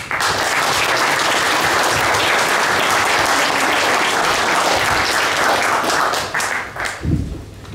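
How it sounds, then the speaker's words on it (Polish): Loud, dense applause from the audience at a patriotic congress in Braniewo, sustained evenly before tapering into a few scattered claps at the end. "Wielkie brawa"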